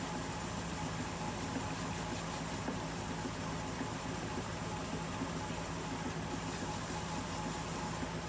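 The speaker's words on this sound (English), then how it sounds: "this time I'm doing it while the lathe is running." A wood lathe runs steadily while a black walnut bowl is turned, a continuous loud mechanical hum with broadband whir that holds even throughout, no voices.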